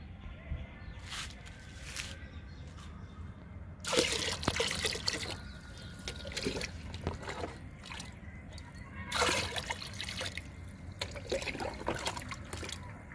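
Diluted liquid plant fertilizer poured from mugs into buckets outdoors, with repeated trickling and splashing bursts of liquid, loudest in two main pours, with no talk.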